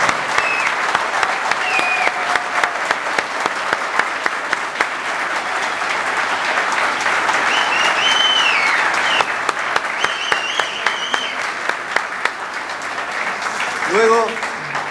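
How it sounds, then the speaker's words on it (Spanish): Sustained audience applause for the class of 1980 at a 25-year reunion, steady and full across the whole stretch, with cheers and voices mixed in and a brief shout near the end. "Aplaudan, por favor, fuerte a la promoción 1980."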